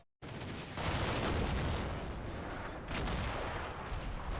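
Panzer tank fire in the Combat Mission: Battle for Normandy war game, a dense, loud roar of heavy gunfire and explosions that surges in a few waves and continues without pause.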